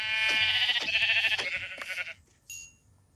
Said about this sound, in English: I just saw a baby sheep